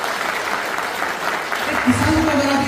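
An audience at an AWPL health and agriculture product meeting claps in a steady, dense round of applause, with a voice speaking over it toward the end.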